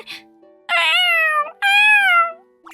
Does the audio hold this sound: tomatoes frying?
no